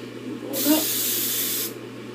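Aerosol hairspray hisses onto hair roots in one steady, close, loud burst of about a second, starting abruptly and cutting off cleanly, with a faint low hum underneath.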